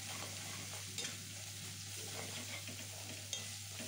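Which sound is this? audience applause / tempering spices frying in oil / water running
tempering spices frying in oil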